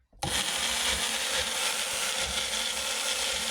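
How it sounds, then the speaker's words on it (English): A blender kicks on abruptly and whirs at steady high speed, a loud, even motor whine with grinding texture, as a fried Oreo chicken mixture spins inside. "And then we'll put it on the blender"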